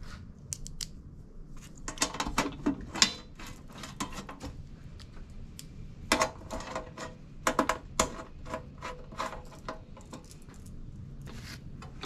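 A ratchet bolting a micro hydro generator onto its base plate, crisp clicking bursts in irregular clusters, close and moderately loud over a faint background hum, with no speech.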